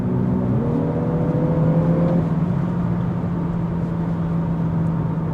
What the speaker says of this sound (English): You can even hear the revs holding up in the speakers